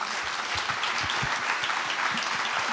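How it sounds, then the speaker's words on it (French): A crowd applauds continuously, a thick even wash of clapping that stays loud from start to finish. "Une bonne main d'applaudissement."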